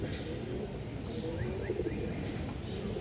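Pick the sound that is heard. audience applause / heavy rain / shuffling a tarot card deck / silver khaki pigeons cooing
silver khaki pigeons cooing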